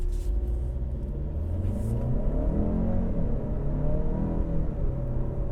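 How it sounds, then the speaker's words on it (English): A 2021 Mercedes-Benz GLE 350 accelerates on a two-lane highway to pass a truck, its engine rumbling steadily with rising revs and road roar heard from inside the cabin, loud and continuous throughout. "we're gonna have a good opportunity to at least get some acceleration here as I wanna pass this truck"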